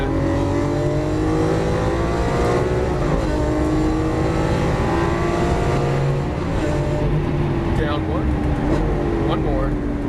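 A Lamborghini Aventador LP700-4 accelerates around a race track, its engine a loud continuous drone that rises and shifts in pitch as throttle is added, with someone talking over it.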